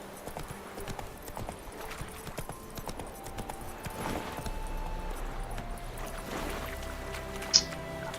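Roach, the horse in the PS5 game Witcher 3, gallops with a soft, repeating patter of hooves under a low game backdrop, and a bright chime sounds near the end.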